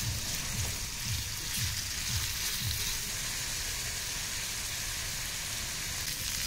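Chicken pieces for a pizza topping fry in a pan with a steady, close hiss of sizzling oil, while a few rhythmic stirring scrapes come through in the first seconds.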